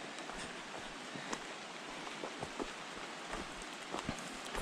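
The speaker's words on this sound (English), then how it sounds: "It's still raining on us," Rain falling on a White Mountains forest trail, a faint, steady hiss of drops with scattered soft taps and patters on leaves and ground, no voices.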